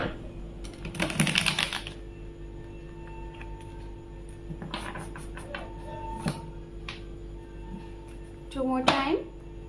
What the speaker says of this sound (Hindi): अगर आपको कार्ड शफलिंग नहीं पसंद है तो आप वीडियो को स्किप करके